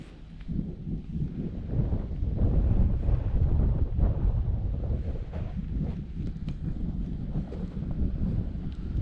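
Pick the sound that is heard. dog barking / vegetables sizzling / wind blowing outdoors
wind blowing outdoors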